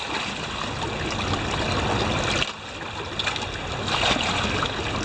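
Creek water from a bucket pours onto a gold sluice outdoors, a steady broadband splashing rush that dips briefly midway and then swells again, with running water throughout.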